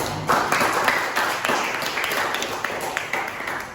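A seminar audience at an Indonesian personal-branding session claps in a dense, steady patter of many hands, fairly close, with a voice faintly over it.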